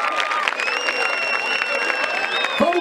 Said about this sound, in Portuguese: uma salva de palmas de novo aí